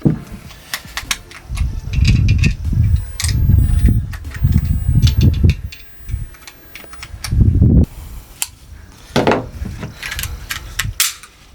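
Rapid sharp reports from a 9 mm pistol fired at an outdoor shooting range, several shots in quick bursts with short pauses between them, loud and close to the microphone.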